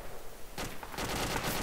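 Gunfire in the Arma II: Operation Arrowhead military game, bursts of shots starting partway through and continuing as a dense, loud, rattling volley.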